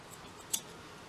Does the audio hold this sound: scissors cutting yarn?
yes